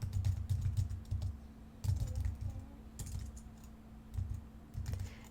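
Typing on a computer keyboard in quick clattering bursts separated by short pauses, close and quiet, with a faint steady hum beneath and no talk.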